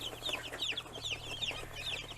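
High, thin peeping from a group of young chicks, repeated chirps in a steady stream, fairly quiet and close, with no talking.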